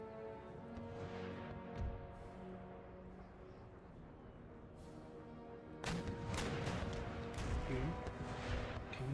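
Artillery batteries in Empire Total War boom in a dense burst of cannon fire and crashes, loud and continuous in the second half after a quieter battlefield bed, with someone talking over parts of it.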